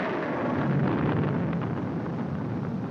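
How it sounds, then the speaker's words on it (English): Film sound effect of storm thunder from a 1946 movie, a continuous deep rumble holding steady and loud for about three seconds with no talking over it. "afraid of the thunder and lightning"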